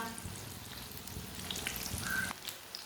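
Spinach pakoras fry in oil in a pan with a constant soft crackling sizzle and a few light scraping stirs, close and steady, with no talking.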